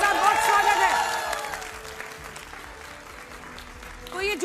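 A studio audience on a Hindi TV debate show claps loudly at first, then the clapping thins and fades. A presenter talks over it, and a fresh burst of clapping rises at the end.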